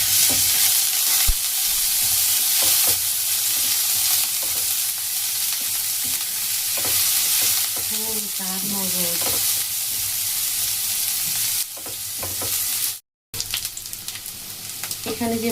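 Onion frying in oil with bay leaf and black cumin in a pan, a loud continuous sizzle with stirring scrapes and a few sharp knocks, cut by a brief dropout near the end.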